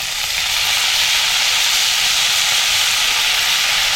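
Cluster beans roast with a little oil on a tava over a wood-fired stove, giving off a loud, continuous sizzling hiss that stays steady and close throughout, with no speech.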